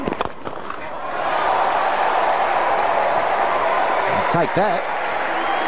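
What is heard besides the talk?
cricket crowd cheering a boundary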